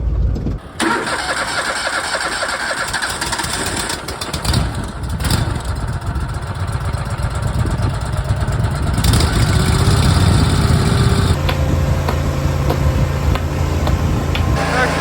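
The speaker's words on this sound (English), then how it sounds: "See if this auger starts." An auger's engine is cranked on a cold, sunny Saskatchewan winter day, catches and then settles into a steady, loud, close-up mid-pitched idle with a few revs partway through.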